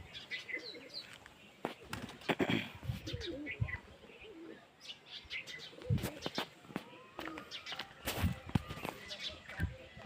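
Pigeons in their coop, with a clutch of eggs present, give low, repeated cooing with scattered chirps and occasional wing flutters, fairly close and steady throughout.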